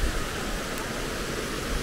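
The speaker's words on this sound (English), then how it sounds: "So that's the stream." Rushing water of the stream at the foot of Gostilje waterfall in Western Serbia, a loud, unbroken broadband roar that stays constant throughout with no voices.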